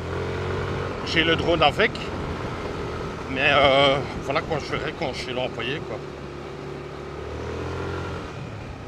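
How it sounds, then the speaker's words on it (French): A scooter engine hums steadily while riding along a jungle road, its low drone running continuously beneath a voice talking throughout. "aujourd'hui, c'est un peu roulé en scooter"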